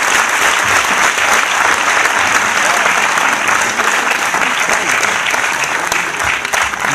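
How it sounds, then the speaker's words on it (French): Dense, steady audience applause fills the hall after business founders' and buyers' testimonies at an entrepreneurship evening, loud and continuous for about seven seconds. "chacun peut les applaudir."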